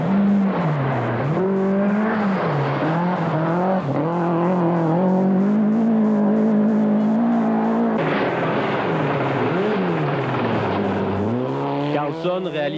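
Rally cars race flat out along dirt stages through vast forests near Perth in a 1989 rally. Engines roar close and continuously, revs rising and falling through gear changes with no break.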